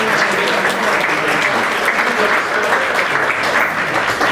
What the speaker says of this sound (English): can I have a massive round of applause for my friend Craig?